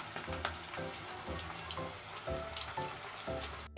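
Helencha greens fritters frying in hot oil, a steady close crackle and bubbling with soft scraping knocks throughout, no voices.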